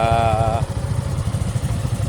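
A motorcycle engine, apparently a Yamaha MT-15, running close by with a steady low rumble and throbbing pulse, briefly overlaid by a faint tonal sound at the start.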